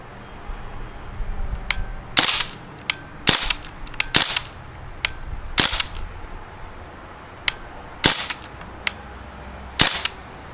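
Sharp, snappy pops from a Crosman Panther Arms DPMS CO2 BB rifle ring out in irregular single shots and quick bursts, loud and close against a quiet outdoor background.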